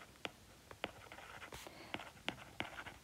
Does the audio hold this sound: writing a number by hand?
yes